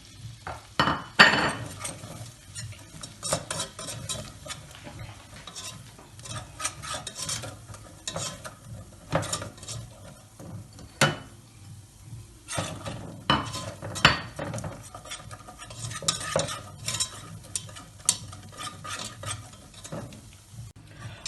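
A whisk working flour into melted butter in a pan for a roux, rapid irregular scraping and clinking strokes against the pan over a faint sizzle, close up, no talking.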